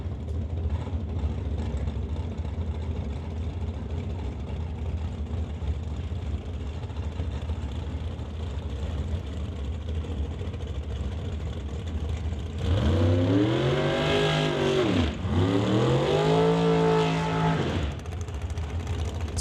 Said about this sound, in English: how about we kick it off with a pair of dragsters.